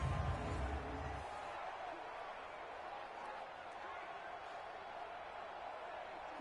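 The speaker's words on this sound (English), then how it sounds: "The crowd here in the Dome making things difficult." Broad, steady roar of a stadium crowd inside a domed arena during an NFL video game simulation of a Vikings–Saints wild card game, continuous and fairly faint with no distinct cheers.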